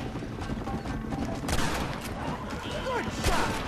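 Gunshots in Red Dead Redemption come as a few sharp cracks over a steady, moderately quiet game ambience, with the clearest shots near the middle and the end.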